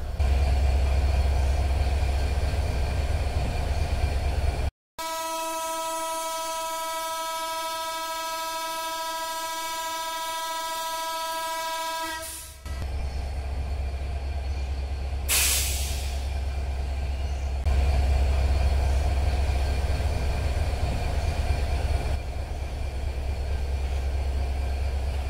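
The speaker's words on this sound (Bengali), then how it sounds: "733 আপ তিতুমির এক্সপ্রেস পার্বতীপুর এসে প্রবেশ করলো। লোকোমোটিভ 6541 নিয়ে।" Titumir Express, hauled by locomotive 6541, rolls into Parbatipur Junction with a steady loud rumble of wagons, a long sustained horn blast in the middle and a brief sharp squeal afterward.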